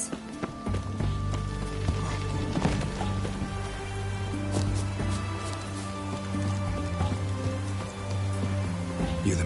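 Steady rain falls across the game world of The Witcher 3, a constant hiss of patter on surfaces held at an even level throughout, with low tonal background music and faint footsteps running beneath it.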